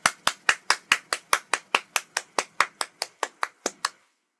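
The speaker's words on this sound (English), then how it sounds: "Please give them a 拍手 applause." Applause for volunteers at a shrine's Earth Day ceremony: about seventeen crisp, evenly spaced claps in a steady rhythm, close and clear, growing slightly softer before stopping.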